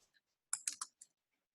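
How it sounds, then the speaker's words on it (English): Typing on a computer keyboard, a few quick, close clicks and taps in a short burst with faint scattered keystrokes around them in an otherwise quiet room. "And then I just start typing."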